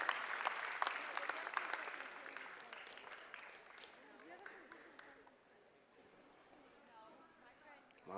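Crowd applause rings out in a gym at a girls basketball game, a steady patter of clapping that gradually thins and fades, with commentators talking over it.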